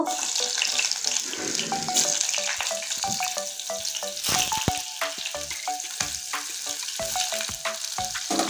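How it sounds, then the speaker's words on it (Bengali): Onions frying in hot oil with black cumin give a steady, close sizzle and crackle, with spatula scrapes and stirring clinks ticking through it while greens are being cooked. "পেঁয়াজটা এখন লাল করে ভেজে নেব"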